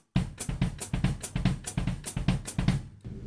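Steady bossa nova drum ostinato with soft low kick thumps and bright hi-hat ticks repeating in a quick, even groove, close and moderately loud, ending abruptly.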